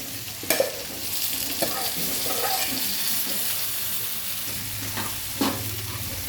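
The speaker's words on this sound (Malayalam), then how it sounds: "കപ്പ നന്നായിട്ട് നമുക്ക് ഇളക്കി കൊടുക്കാം." Tapioca stirred in hot oil with onion and chili, a steady close sizzle of frying with a few sharp scraping stirs of the spoon against the pan.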